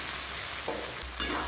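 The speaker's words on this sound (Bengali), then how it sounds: "আমি দিয়ে দিচ্ছি কেটে রাখা আলুটা।" Cut potatoes go into a hot pan with a brief soft sizzle and a scrape of stirring, quiet and close, in a Bengali home kitchen cooking potatoes with meat.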